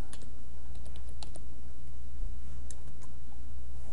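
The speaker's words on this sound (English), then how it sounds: "I'm just going to type in something simple like" Light, irregular typing on a computer keyboard, soft scattered key clicks over a steady low background hum.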